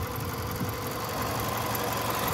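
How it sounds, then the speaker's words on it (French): A Toyota Avensis T25 petrol engine idles steadily close by, a constant low rumble with a faint mechanical hum and no voices. "C'est un moteur essence, donc il a un petit bruit sympa d'essence"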